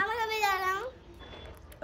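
A cat gives a single drawn-out meow, rising then falling, close and clear, followed by a quiet pause.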